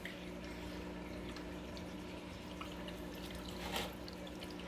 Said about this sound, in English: it's sucking water through now, outside.